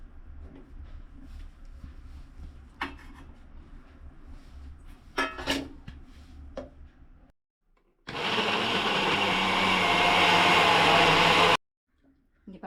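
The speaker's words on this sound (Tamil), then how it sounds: "அதே மிக்ஸி ஜார் தான், கழுவில் நான் அதிலேயே போட்டு இப்போ இது எல்லாத்தையும் அரைச்சி எடுத்துக்கலாம் மறுபடியும்" A mixer grinder jar grinds soft paneer in a kitchen, a loud steady whirring burst of about three and a half seconds. It follows clinks and handling sounds under quiet talk, then cuts off abruptly.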